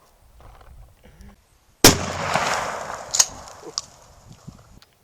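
A single loud, sharp blast from a Remington 870 shotgun firing double-aught buckshot outdoors, sudden and close, then fading with a few smaller cracks and impacts.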